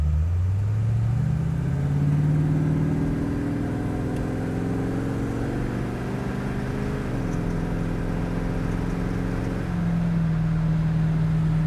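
A 1968 Mercury Cougar XR7 on the road, its engine droning steadily as it accelerates, with rising and falling pitch marking the transmission's gear shifts; close, continuous cabin sound without talk.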